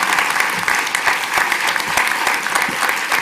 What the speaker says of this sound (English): Just applaud that teacher.